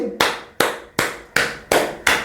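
Six sharp hand claps ring out at a steady, evenly spaced rhythm, each with a crisp attack and short decay, loud and close with no voices.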